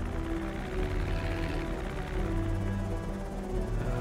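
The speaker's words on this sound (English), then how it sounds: "Oh, helicopter's coming back one more time." A helicopter in Project Zomboid drones overhead with a steady, loud rotor thump and engine hum that holds constant throughout, no talk over it.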